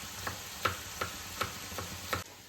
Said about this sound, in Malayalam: ഞാനിതാ ഉള്ളി ഇതിലേക്ക് വേണ്ടുന്നത് ഫ്രൈ ചെയ്യാൻ വെച്ചിട്ടുണ്ട്.